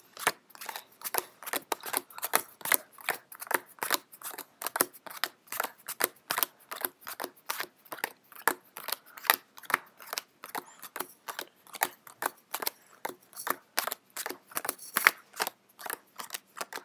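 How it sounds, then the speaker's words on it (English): Playing cards dealt one by one into three piles, a long run of sharp, regular snapping flicks close up with no talk. "I say I'm going to deal them out into 3 decks again"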